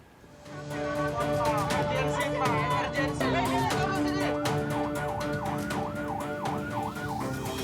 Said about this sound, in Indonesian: mobil ambulans nekat lawan arah di Jalan Raya Keramat Jati, Jakarta Timur